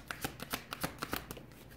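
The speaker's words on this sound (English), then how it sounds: "I was shuffling the cards" Tarot cards are shuffled by hand in a quick series of crisp riffling snaps, about a dozen close taps at an uneven rhythm, with no talking.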